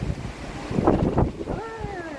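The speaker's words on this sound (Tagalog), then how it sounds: "Strong winds." Strong wind from Storm Ciarán in Épinay-sur-Seine buffets the microphone with a rushing roar, gusting unevenly over a couple of seconds.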